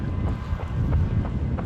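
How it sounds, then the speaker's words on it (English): Wind gusts roar into the microphone on a cold, breezy long run, a loud continuous low buffeting that swells and fades with no voices. "And now it's cold and breezy and windy."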